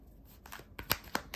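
Tarot cards being shuffled by hand, a few soft, quick riffling and snapping sounds close by and fairly quiet.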